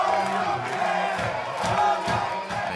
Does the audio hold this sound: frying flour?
no